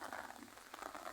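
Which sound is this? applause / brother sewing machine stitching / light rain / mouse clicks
light rain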